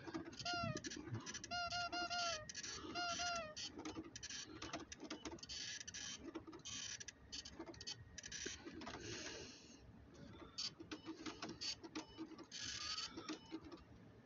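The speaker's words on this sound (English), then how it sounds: "Gotta print some flyers. Printing flyers, printing flyers, printing flyers." Printer in the Five Nights at Freddy's Pizzeria Simulator game printing flyers, a busy mechanical whir and clatter mixed with game music and bleat-like chirps, loud and continuous throughout.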